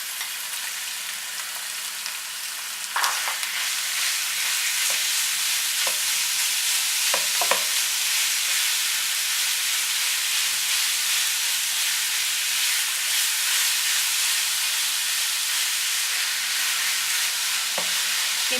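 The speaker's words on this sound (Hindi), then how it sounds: "कीमे को 2 मिनट तक फ्राई करेंगे।" Loud, continuous sizzling and hissing as minced meat fries in a hot pan with garlic, with occasional clinks and scrapes of stirring.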